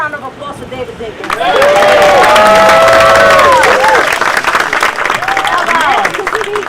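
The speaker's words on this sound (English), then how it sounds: "One more round of applause for David Dinkins." A crowd at an outdoor street co-naming ceremony applauds for David Dinkins, clapping and cheering that swell after a quiet start and hold loud and steady, with voices and shouts mixed in.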